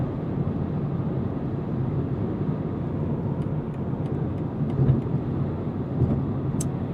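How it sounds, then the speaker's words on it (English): Steady broadband tire hum and road roar fill the cabin of a 2026 BMW M2 CS at highway speed on Michelin Pilot Sport Cup 2 tires over grooved concrete slabs, with faint passing traffic outside and no talking. "You can hear a good amount of hum from these Michelin Pilot Sport Cup 2 tires"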